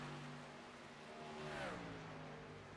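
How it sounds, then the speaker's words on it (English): Electric race cars circle a track in the iRacing sim during a truck series race at Las Vegas, giving a faint, smooth electric whine that rises and falls in pitch as cars sweep past. "Look at these little electric cars going around the track."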